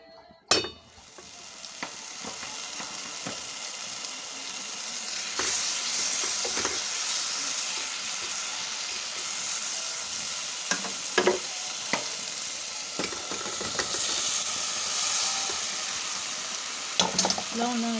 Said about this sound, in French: Là, on a ajouté les fougères. Je mélange.